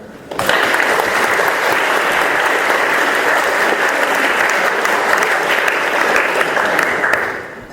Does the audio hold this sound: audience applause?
yes